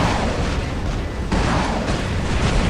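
Weapons fire in a space combat game on a test server: a continuous, dense roar of explosive bursts and booms with a sharper impact near the middle, loud and unbroken throughout.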